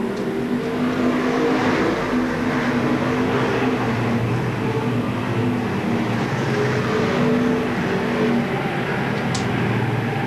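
Stock cars racing at Seekonk Speedway, a continuous loud roar of engines circling the oval track with no clear breaks, heard alone without talk.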